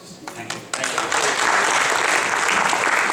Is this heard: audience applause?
yes